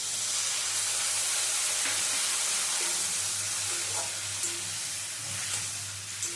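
Water poured into spiced masala with Kashmiri chilli powder in a hot pan for an egg and pointed gourd curry, giving a loud, steady, hissing sizzle that eases slightly toward the end.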